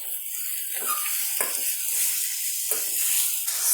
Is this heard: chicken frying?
yes